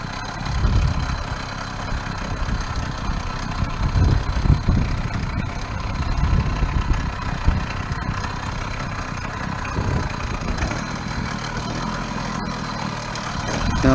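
A small pedal motorbike engine idles with the choke on as it warms up, giving a steady, close putter that holds fairly even for the whole stretch with no talk over it.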